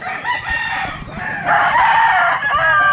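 A white jacket rooster gives one long crow up close, loud and strained, rising in the middle of the call, with no talk over it.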